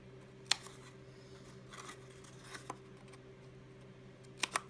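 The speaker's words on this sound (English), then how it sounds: "Once you have those holes, do a little snip on each one." Scissors make a few sharp, quiet snips in the holes of a cardboard cake pop box, with sparse, separate cuts against a faint steady hum.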